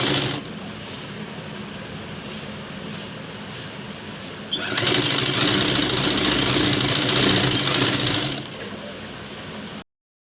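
A sewing machine stitches a lined blouse, its steady motor whir running alone, growing louder and faster midway, then easing back to a quieter hum before stopping.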